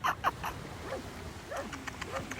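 Small, thin whimpers and faint yips from a young dog come in brief bursts, soft and close, over low background noise.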